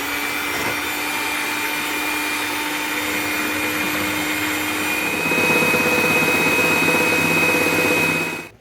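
An electric mixer beats cream with powdered sugar, a steady close whir that runs throughout, grows slightly louder and heavier about two thirds of the way in, then cuts off at the end.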